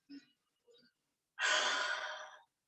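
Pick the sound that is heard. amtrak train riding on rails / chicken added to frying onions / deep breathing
deep breathing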